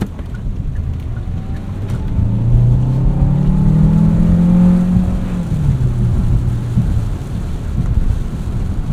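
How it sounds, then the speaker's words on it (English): A 2025 Hyundai Santa Fe Hybrid Calligraphy AWD drives over a bumpy road, its steady low rumble of tyres and cabin noise swelling and easing, loud and continuous with no talking. "Got a bumpier section of road through here."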